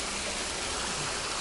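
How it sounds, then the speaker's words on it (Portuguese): A waterfall in the green countryside of the Azores, heard as a steady, dense rush of falling water that stays constant throughout, close and continuous with no voices. "está aqui uma cascata."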